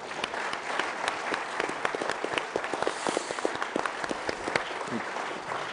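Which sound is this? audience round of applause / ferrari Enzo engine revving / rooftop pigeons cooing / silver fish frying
audience round of applause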